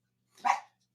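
A single short dog bark, fairly close and loud, standing alone against near silence.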